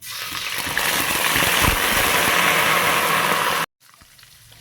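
Ginger, garlic and shallot paste hits hot oil in a pan with a loud, steady sizzle and gush for several seconds, then cuts off abruptly to a quieter, softer fry.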